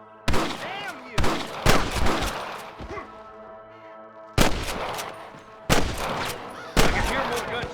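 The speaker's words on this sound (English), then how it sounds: "I can hear more gunshots." Gunfire in the Western video game Red Dead Redemption, several loud sharp shot bursts in clusters with echoing tails, a short quieter lull in between, and no talk over the shots.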